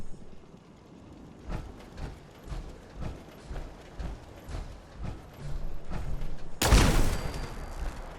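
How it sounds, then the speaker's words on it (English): Turrets in Fallout 4 with the Frost Plus mod fire in evenly spaced, muffled bursts that repeat in a steady rhythm, slightly distant, before a loud, close blast near the end. "I hear turrets."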